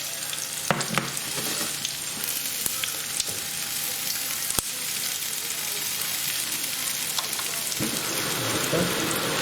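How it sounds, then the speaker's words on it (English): Onions frying in a pan for crispy chili beef give off a steady, dense sizzle with crackling spits and occasional sharp clicks of stirring, close and continuous throughout. "give your onions and a lot of stir as well. And they're cooking up nice."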